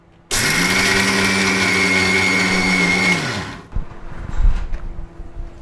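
An electric mixer grinder whirs loudly as it grinds Bengal gram, coconut, salt and coriander leaves into a smooth paste. It starts abruptly, runs steadily for about three seconds, then winds down and stops, followed by faint clattering.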